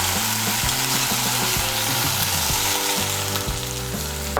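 Spice paste of ground turmeric, chilli and coriander hits hot oil for a cauliflower and egg curry, giving a loud, steady sizzle and crackle with stirring throughout and no voices.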